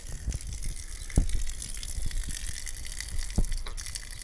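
Water gushing from a borehole tap at an apiary, a steady rushing flow with a few louder splashes, fairly close and heard alone.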